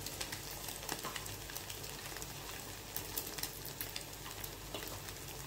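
Egg seasoned with salt and pepper sizzling steadily in a pan while being stirred, a soft, continuous crackle with light scraping taps throughout, no voices.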